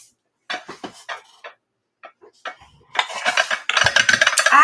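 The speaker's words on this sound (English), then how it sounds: "I got some dishes for my birthday. This one is a square baking dish, which I do not have one of." New ceramic dishes and a square baking dish are handled nearby, giving a run of scattered clinks and knocks that grow into busier rattling and clattering, with no talk.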